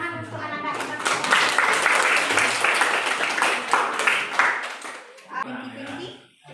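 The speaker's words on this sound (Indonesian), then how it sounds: "tepuk tangan untuk anak-anak yang bertanya" Classroom applause for children who asked questions, a burst of clapping from a small group of pupils that rises, holds steady and then thins out, with voices mixed in toward the end.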